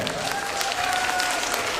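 Concert audience applause fills the hall, a dense steady patter of many hands clapping at moderate level with a faint tonal whine underneath.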